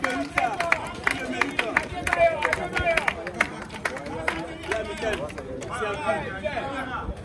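An audience at a pétanque competition in Benin applauds in uneven bursts, with crisp hand claps mixing with voices and a general crowd hubbub throughout.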